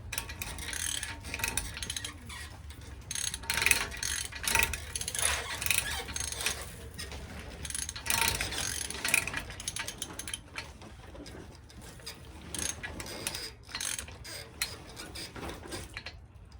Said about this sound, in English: I'll show you how I tighten up the nut on the hub here. Use that socket.